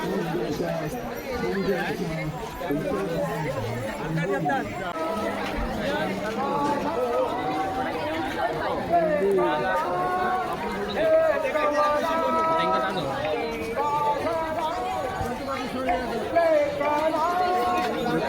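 Crowd chatter at the Kunkeshwar temple fair, a steady hubbub of many voices close around with nearby people talking over it.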